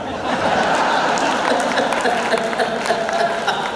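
Audience at a Hindi comedy poetry show breaking into dense, steady applause mixed with scattered laughter, filling the hall loudly for a few seconds.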